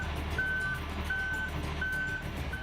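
Truck backup alarm at an asphalt paving site, three evenly spaced high-pitched beeps over a constant rumble of engine and machinery noise.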